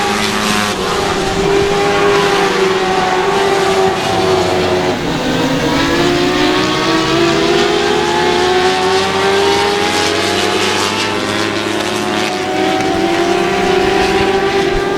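Small race cars roar around the Shady Oaks Speedway oval, engines loud and steady as a car sweeps close past with a falling pitch, then others keep droning on around the track.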